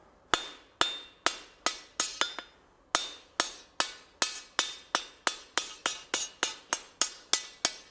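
Rhythmic hammer blows ring out on a blacksmith's anvil as hot steel is forged and bent, about twenty sharp metallic strikes with a brief pause early on, loud and close with no talking.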